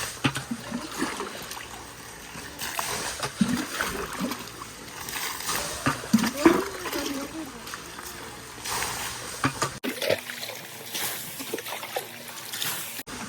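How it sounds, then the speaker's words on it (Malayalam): Water is scooped by hand out of a large fish tank being cleaned, giving intermittent trickles and splashes close by, mixed with talking throughout. "കുറച്ച് വെള്ളം ഇങ്ങനെ എടുത്ത് ഒഴിവാക്കാം"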